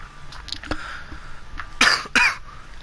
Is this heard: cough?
yes